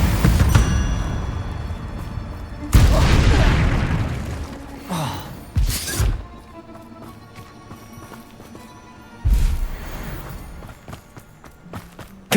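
Confringo blasting spells cast in Hogwarts Legacy on hard mode, several loud broadband whooshing bursts with sharp cracks, separated by quieter stretches of ambient game sound with hoofbeat-like clatter.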